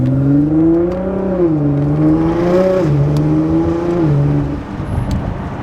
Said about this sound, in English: I've never tried race mode before. We're gonna try it today for the first time in my GTR.